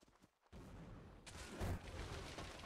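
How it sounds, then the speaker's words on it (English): A cannon fires in Mount & Blade Warband during a Napoleonic Wars line battle: a heavy boom erupts after a brief quiet, followed by a rumbling wash of distant gunfire and battle noise. "I'll get shot by the cannon. It's firing."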